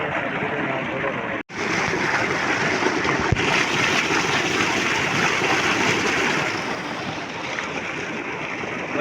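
Cold water rushing fast, a steady loud broadband roar filling the whole clip without a break, near and continuous.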